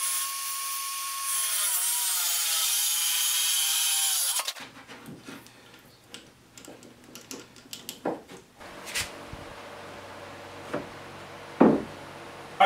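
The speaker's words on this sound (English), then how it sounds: "I'm going to cut all three of them at the same time because my saw will cut them all at the same time" A saw cuts through three wooden boards at once for platform bed side rails, a loud steady whine for about four seconds, followed by scattered wooden knocks and clatter as the pieces are handled.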